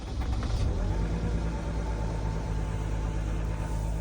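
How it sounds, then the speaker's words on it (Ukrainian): A Mercedes Sprinter van's engine runs steadily up close after sitting idle for nearly a week; an uneven, rough patch in the first half-second settles into a constant low rumble with no talking. "Зараз подивимося, як спринтерок настартується після тижневого простоя."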